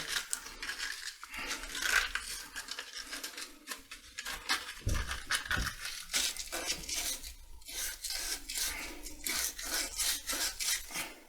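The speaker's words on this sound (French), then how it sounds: "On va poncer un peu l'intérieur" Sandpaper rubbed against the inside of a plastic drain pipe end, a steady rasping scrape in repeated short strokes, close and fairly quiet, with no one talking.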